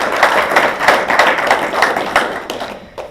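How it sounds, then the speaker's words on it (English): An audience at the Garland Apprenticeship Workshop 2017 claps in a short, fairly dense burst of applause, rhythmic and close, tapering off at the end. "let's give a big round of applause for Chad Brummett"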